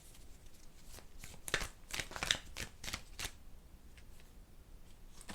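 Tarot guidance cards being shuffled by hand, a run of crisp papery riffles and flicks in uneven bursts, close and moderately quiet, with no talking.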